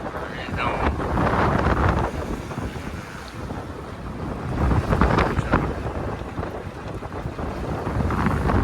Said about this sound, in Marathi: हवामान खूप खराब आहे